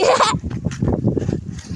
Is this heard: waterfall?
no